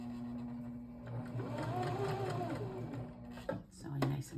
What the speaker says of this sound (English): Sewing nice and slowly as we get to the edge and switching over to using our hands